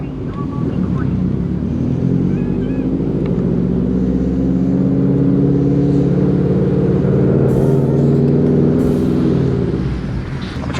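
Engine and road noise from a neglected 2004 Subaru WRX STI being driven home after sitting, a steady low rumble throughout with little change in pitch, and voices talking inside the car over it.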